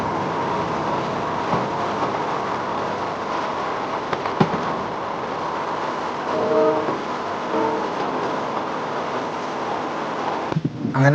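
A train running between Rameswaram and Madurai, heard from inside as a loud, steady rumble with occasional clicks and a short tonal squeal in the middle, then a burst of louder rattling at the end.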